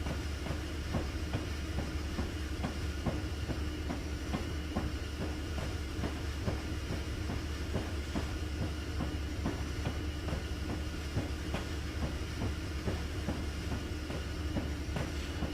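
Western Pacific F7 diesel locomotive running on the Feather River Canyon line in Train Simulator 2016, a steady engine rumble with rhythmic clickety-clack of wheels over rail joints, moderately quiet and continuous.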